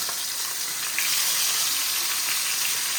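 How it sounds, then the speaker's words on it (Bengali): Bitter gourd frying in oil in a pan, a steady broadband sizzle that holds throughout and grows a little louder partway through, close and continuous with no talking. "আগে উচ্ছেটা ভেজে তুলে নেব পমফ্রেট মাছের গায়ে লবণ হলুদ মাখিয়ে নিয়েছি একই এতেই ভাজবো"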